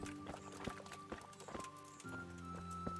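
A horse's hooves clip-clop in a medieval setting in Kingdom Come: Deliverance, a run of quick, evenly spaced hoof strikes close by, heard over a sustained game music drone.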